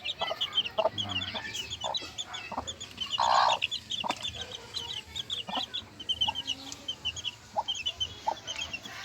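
Chickens cluck steadily at a small backyard poultry farm, with repeated nearby clucks and calls scattered over constant high bird chatter, plus one louder squawk partway through.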